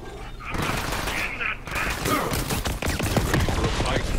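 Pistol fire in Borderlands 3, rapid shots cracking in quick succession amid game effects, loud and close, with a voice talking over part of it.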